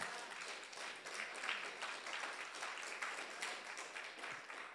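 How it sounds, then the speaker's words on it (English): A church congregation applauds after a sermon line, a steady wash of many hands clapping at a distance, moderately quiet and sustained for several seconds, with a faint voice or two underneath. "I think we need to clap up to Jesus about that."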